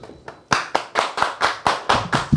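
Hand claps from a studio audience on a casual talk show, about eight sharp, evenly spaced claps in a slow deliberate rhythm, close and loud with no talking.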